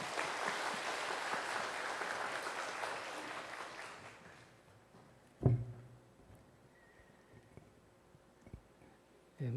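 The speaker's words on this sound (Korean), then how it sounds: "우리 힘차게 박수로 환영을 합시다." Warm applause from a church congregation welcoming a preacher at a Sunday service fills the first seconds, then fades into a quiet hall with a few faint knocks and thumps.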